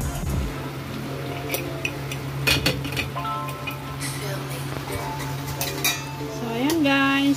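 A metal lid goes back onto a pot of salmon head adobo with a few close clinks and clatters over a steady kitchen hum, then scraping and handling noises follow.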